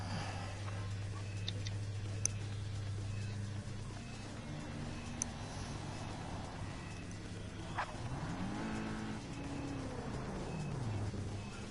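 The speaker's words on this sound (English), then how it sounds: "The boys from Detroit waiting for the Iena Coffee Blackman Heritage GT40 to come down the pit lane." A Blackman Heritage Ford GT40 race car rolls down the pit lane, its engine note faint and distant, rising and falling over a low background hum. Quiet voices are audible under the engine.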